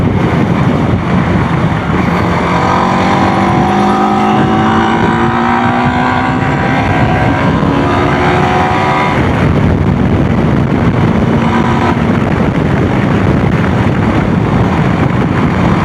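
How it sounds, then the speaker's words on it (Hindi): A TVS Apache RTX 300 motorcycle engine drones loudly while riding, rising through the gears in repeated climbing pitch sweeps under heavy wind rush; no talk. "तो अभी मैं चला रहा हूँ बाइक को"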